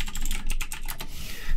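Fast, steady typing on a computer keyboard, a dense run of close, crisp key clicks with no talking.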